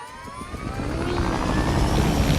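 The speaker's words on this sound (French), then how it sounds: "Ah là, du coup, il y a un hélicoptère." A helicopter in Fortnite rumbles with a steady rotor and engine drone that swells slightly louder, continuous and fairly close, with no talking.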